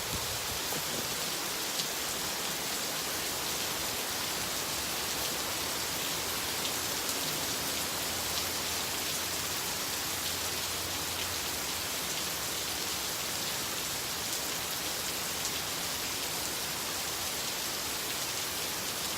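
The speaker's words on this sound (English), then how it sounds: "Now I'm going to shift and let you just witness the rain for a moment." Steady rain falling and pattering on surfaces, a continuous even hiss of dense drops that stays level and moderately loud from start to finish with no voices.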